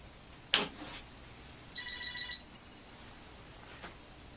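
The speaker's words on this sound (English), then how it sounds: "Did you hear that little phone ringing noise it made?" At power on, a Commodore PET 4032 gives a sharp click, then a brief, faint trilling electronic ring resembling a telephone bell, followed by quiet.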